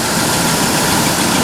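A car engine idles on a cold morning with a ticking lifter noise, its steady close-up drone filling the brief stretch without pause.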